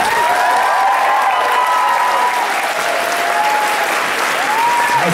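Loud, steady applause and cheering from a convention audience at the Kitacon 2012 opening ceremony, with a few whoops rising over the dense clapping throughout.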